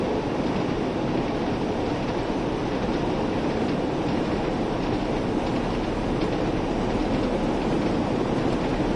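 A train runs in Train Sim World 2 on PS5 with a steady, continuous rail rumble and rhythmic wheel clatter, moderately loud throughout and heard alone.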